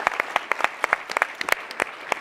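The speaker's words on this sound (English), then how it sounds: "let's have one more round of applause for CREAM." A conference audience at TechCrunch Disrupt SF 2019 claps for the startup CREAM, a brief burst of dense, moderately loud applause heard from within the hall, with no voices.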